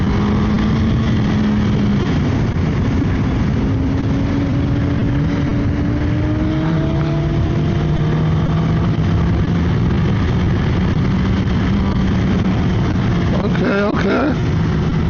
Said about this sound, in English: That stock exhaust don't sound too bad